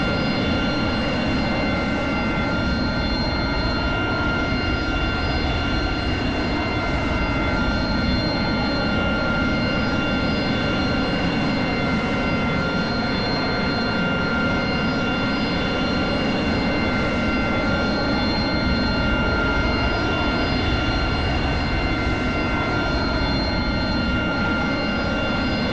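AV-8B Harrier jet engine in the DCS flight simulator, a steady loud turbine roar and whine with constant high tonal lines, running continuously without pause while the aircraft sits ready to taxi during a cold start.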